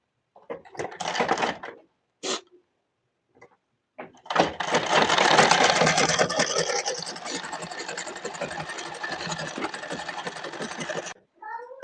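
A sewing machine stitches a blouse in a long steady run after a few short bursts, with brief handling noises before and after.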